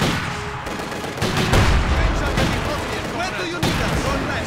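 Battle fire in Company of Heroes 2 on the Stalingrad mission, with PTRS anti-tank rifles among the guns: dense, loud gunshots and sharp blasts in quick succession, with game voices talking through the din.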